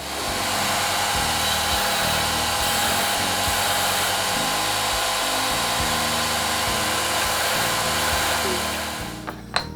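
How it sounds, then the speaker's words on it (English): A 2-inch belt sander with a disc sander on the end runs at a steady, loud motor drone with a constant hum and grinding hiss, then cuts off just before the end. "This is a 2-inch belt sander with a disc sander on the end."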